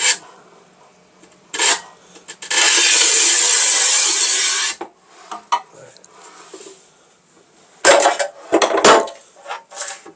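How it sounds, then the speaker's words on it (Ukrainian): Manual tile cutter working a 1200 mm tile: a sustained scraping score across the surface, then sharp snaps and clatter as the tile breaks, with quiet handling sounds between. "О, слава Богу, ріжеться плитка."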